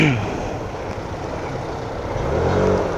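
Road traffic with motorcycles ahead, heard from a rider on a Yamaha NMAX 155 through a lavalier mic with a deadcat windscreen: a steady rumble of engines and wind, swelling slightly near the end.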